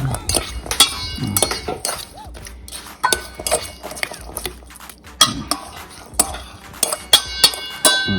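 Metal fork clinking against a bowl while shrimp and garlic are stirred together, a string of sharp, bright taps in an irregular rhythm, close and fairly loud, with no talking.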